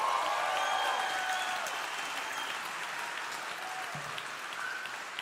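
An audience at a live Mindvalley University 2022 stage event applauds, the dense clapping loudest at the start and then easing into a steady, slightly softer wash, with faint voices mixed in.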